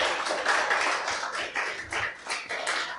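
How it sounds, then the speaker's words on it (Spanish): A church congregation claps loudly and steadily during a service, dense overlapping hand claps with a few brief dips in volume. "Dele un fuerte aplauso al Señor."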